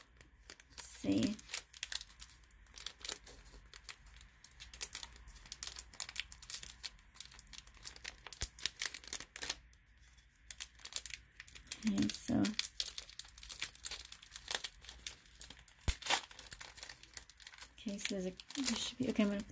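A foil Pokémon trading card booster pack being cut open and unwrapped, with close, steady crinkling and crackling of the wrapper throughout while a person talks at intervals.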